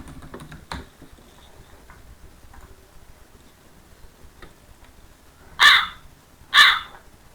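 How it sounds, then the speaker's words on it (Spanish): A crow caw sound effect: two loud, harsh caws close together near the end, after a few faint clicks and taps in quiet surroundings. "Onomatopeya, efecto de sonido, cuervo"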